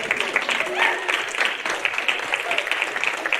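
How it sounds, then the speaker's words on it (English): A crowd at a pocket pet show in an exhibit hall applauds the judge and the children, a sustained wash of clapping at moderate level, close and even, with no talking on top. "just a round of applause for our judge and all of these kids"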